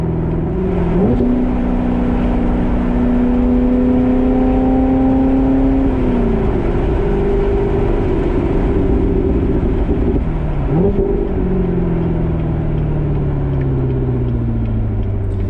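A C7 Corvette's loud AWE aftermarket exhaust revs repeatedly, the engine note climbing and dropping in deep, throaty pulls with a steady rumble between revs.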